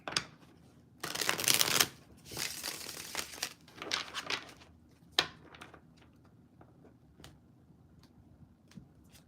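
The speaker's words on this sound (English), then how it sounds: "One more shuffle." Cards are shuffled in a few brisk riffles up close, then scattered soft taps and clicks as they are handled and set down; quiet otherwise.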